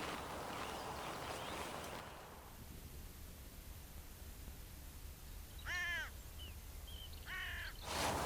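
A couple of harsh hooded crow caws ring out, a few seconds apart, over a quiet outdoor background after an initial rustle of noise.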